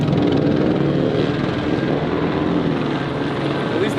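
A police helicopter flies low overhead, its rotor throbbing loud and steady in a constant droning thrum that stays close throughout, with faint speech underneath.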